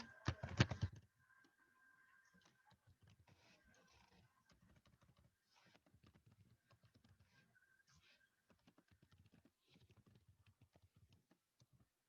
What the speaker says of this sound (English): And just start typing away.